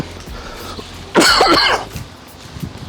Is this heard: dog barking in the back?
no